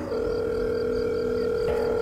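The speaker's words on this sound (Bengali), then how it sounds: "একবার রিং হয়ে থেমে যাওয়ার পর নবারুণ ফোনটা রিসিভ করে" A telephone ringing tone heard from the caller's end of a call, a steady electronic hum-like tone held for about two seconds with no speech.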